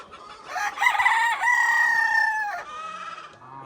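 A small local rooster crows once, close and loud, its long drawn-out call holding steady before trailing off, with no talk over it.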